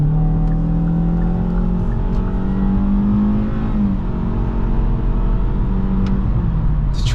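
A 2023 Kia Forte GT-Line accelerates hard, its engine droning steadily louder and higher inside the cabin, with a brief dip midway as the transmission shifts before the pull resumes.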